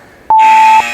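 A single loud, steady electronic buzzer tone sounds abruptly for about half a second, cutting off sharply with a brief ringing tail.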